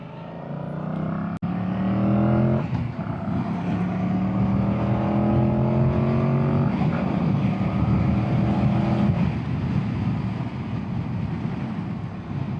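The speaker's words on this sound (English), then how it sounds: "So as I've been riding now this motorcycle for some time" A 2025 Yamaha MT-07 motorcycle roars as it is ridden. The engine note climbs through several rising revs with gear shifts, close up and loud under steady wind rush, and no one speaks.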